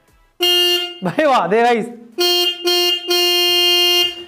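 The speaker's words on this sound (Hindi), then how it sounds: "तो भाई हॉर्न टेस्ट करेंगे सबसे पहले" A car-style horn fitted on a bicycle blares in loud, sustained honks with short gaps, while someone talks excitedly between blasts.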